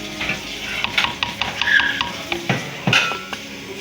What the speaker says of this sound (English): And then let me stir.